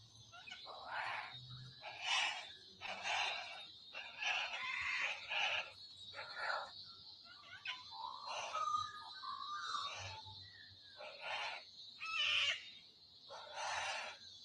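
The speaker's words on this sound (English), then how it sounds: "these are two tawny frogmouths that were just right above mine and my partner's head the other day" Two tawny frogmouths calling from close overhead at night, a series of soft, repeated low, pulsing calls in steady rhythm, played back quietly with faint background hiss.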